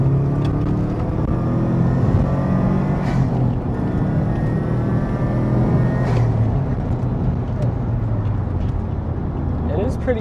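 A winter beater car accelerating in third gear, a steady rising engine drone heard from inside the cabin, moderately loud with faint rattles and knocks over it.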